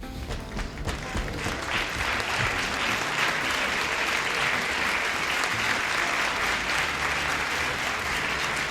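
Sustained audience applause fills the space after a segment ends, a dense, steady wash of many hands clapping at even loudness throughout with no voices on top.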